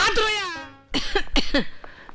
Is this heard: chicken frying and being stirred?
no